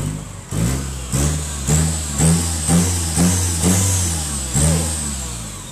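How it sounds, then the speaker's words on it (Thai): A car engine fires up close by and revs repeatedly, each throttle blip rising and falling in a steady rhythm over a rough idle, with no talking. "ติดเครื่องละติดเครื่องละ"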